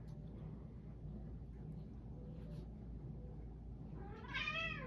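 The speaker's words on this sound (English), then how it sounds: "That might be the black cat kicking around" A black cat gives a single faint, rising meow near the end, against a low steady background rumble in an indoor room.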